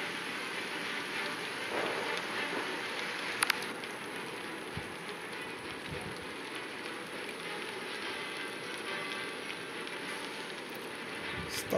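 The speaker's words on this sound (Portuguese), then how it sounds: "Está chovendo demais." Heavy rain falling on a truck in traffic, a steady dense hiss of drops continuing throughout at moderate level, with a few brief knocks.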